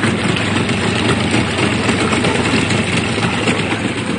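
A boat's inboard engine idles slowly in gear, giving a steady, low, even rumble with a faint knocking pulse, close and loud and with no voices over it.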